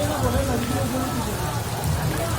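Steady, heavy rain pouring down continuously on a street during Ganesh festival crowds, loud and close, with a faint murmur of voices mixed into the downpour.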